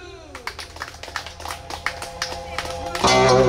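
Audience at an outdoor Korean pumba street performance clapping along in a steady rhythm, distinct claps close by, before music kicks in loudly near the end.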